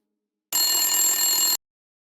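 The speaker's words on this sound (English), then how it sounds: "I jumped when my phone rang, snapping me out of my mission." A phone rings once, a loud, bright electronic trill lasting about a second, alone and close, with silence before and after.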